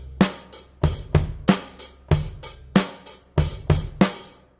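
A basic rock drum beat on a kit, kick and snare alternating with steady hi-hat in a repeating pattern, loud and close with no voices.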